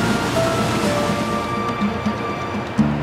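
A rushing river flowing beneath a bridge without guardrails in southern Norway, a steady loud broadband roar of water throughout, with no talking.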